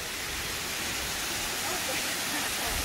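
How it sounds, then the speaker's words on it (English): A waterfall on a local hiking trail pours in a steady, dense broadband rush, close and continuous with no pauses. "So we took a small little hike up to this local trail where there's this beautiful waterfall."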